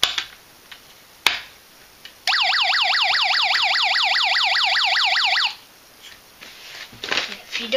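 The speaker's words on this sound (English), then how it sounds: "to show how an integrated circuit can be used to make real alarm sounds" An electronic alarm siren from an integrated circuit project rises in a rapid, repeating warble for about three seconds, loud and alone, framed by a sharp click before it and faint handling noise after.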